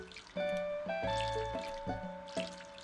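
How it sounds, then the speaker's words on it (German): Crops being watered in the Harvest Moon video game, a series of dripping, trickling water effects over steady game music, with no talking. "Wir gießen jetzt."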